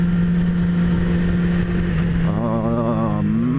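2017 Yamaha R6 motorcycle engine climbing a road, a steady loud drone that shifts pitch as it drops a gear and revs higher, with wind rush and a voice speaking over it.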